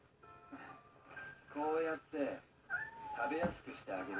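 A cat in the Dreamcast game Shenmue meows several times after being fed, clear tonal mews close up and moderately quiet, with a voice talking around them.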